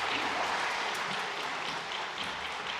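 Church congregation applauding to welcome a newly appointed education pastor during a Sunday worship service, a dense, steady wash of clapping from many hands that fills the room and holds for the full stretch without talk.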